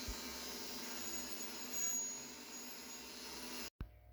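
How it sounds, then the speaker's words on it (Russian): A vacuum cleaner runs steadily, drawing dust off a cast-iron water pump housing during cleaning, a continuous close whine and roar that cuts off abruptly near the end. "Убираю пыль кисточкой и пылесосом."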